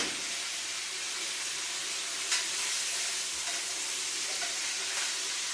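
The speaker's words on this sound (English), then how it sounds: "One more little flip here so you can baste them in the butter." Steak sizzles in a pan while being basted in butter, a dense, continuous hissing fry at steady loudness with a couple of faint clinks, close up and without speech.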